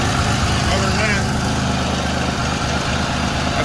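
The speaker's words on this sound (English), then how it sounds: "There's an exhaust leak right there." Pontiac Grand Prix engine idling with an exhaust leak at the crossover pipe, a steady loud low rumble with fluttering puffs throughout, close up.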